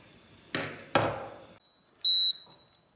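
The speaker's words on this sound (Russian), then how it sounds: "Сигнал." Electronic timer on a cooking appliance gives a single short, bright, piercing beep, preceded by a couple of thuds and handling noises in a kitchen while mushrooms wrapped in bacon cook.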